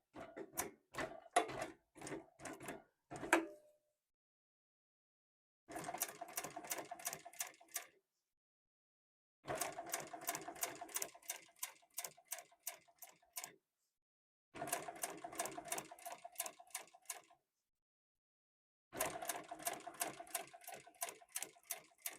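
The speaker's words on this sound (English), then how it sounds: "I'm going to start there, back stitch, go all the way down, and then back stitch at this end here." A sewing machine stitches a seam on a messenger bag in five separate runs of rapid, even clatter, each lasting a few seconds with silent pauses between, close and fairly quiet.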